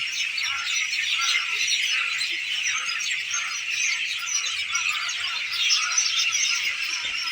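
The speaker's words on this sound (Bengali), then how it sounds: "পাখির ডাক শুনতে পাচ্ছেন কিনা" Many birds, including mynas, calling together at sunset in rural Ishwarganj, Mymensingh: a dense, continuous chorus of high chirps and squeaks at moderate loudness, with no talk.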